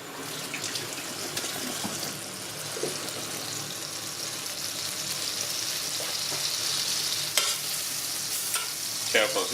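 Filet mignon searing in hot oil in a pan, a continuous sizzle and crackle with scattered sharp pops and spits rising slightly over time, no speech.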